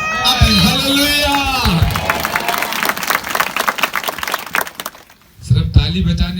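A church congregation claps hands in a broadband burst of overlapping claps, mixed with singing and voices at the start, then fades briefly before singing voices return.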